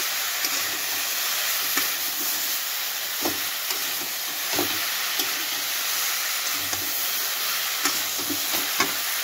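Cauliflower and pea curry being stirred and sautéed in a pan, a steady close sizzle with intermittent scraping clinks of the spatula, no voices.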